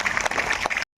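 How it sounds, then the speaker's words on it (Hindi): A religious discourse audience claps loudly in a brief, dense burst of applause that stops abruptly, with no speech. "थोड़ा ताली जोर से बजाया"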